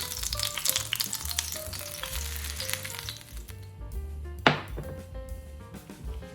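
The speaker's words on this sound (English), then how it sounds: "Frying up the breaded ham." Oil sizzles and crackles steadily as breaded ham fries in a pan, with a brief sharp clatter partway through.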